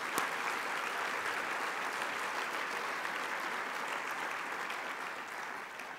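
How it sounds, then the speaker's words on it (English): A luncheon audience applauds the event staff with steady, dense clapping that holds evenly for several seconds at moderate distance, fading slightly at the end. "Can we just give them a round of applause?"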